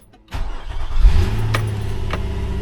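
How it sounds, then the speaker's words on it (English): A V6 car engine cranks briefly and catches, settling into a steady, close idle with a low rumble after the initial start. "Nice V6 this thing."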